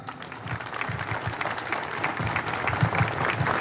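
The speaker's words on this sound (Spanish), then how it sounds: "Más fuertes esos aplausos, por favor" Sustained crowd applause at a mayoral inauguration ceremony in Santa Rita, Paraguay, dense steady clapping from a large audience that builds slightly louder toward the end.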